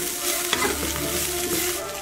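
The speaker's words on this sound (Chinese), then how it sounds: "我们把辣椒和花椒煸香以后下入豆角" Green beans stir-fried in a wok of rendered oil with dried chilies, Sichuan peppercorns, scallion, ginger and garlic give a steady loud sizzle, with scraping stirs and a couple of sharp clacks from the spatula.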